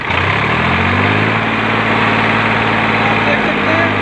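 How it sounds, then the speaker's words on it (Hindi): A tractor engine with a suspected fault in its running sound is throttled up, holding a loud, steady, low rumble with no clear rise or fall in pitch, and a voice talks over it. "मेरा जो ट्रैक्टर है वो बिल्कुल एक जैसा साउंड निकाल रहा है"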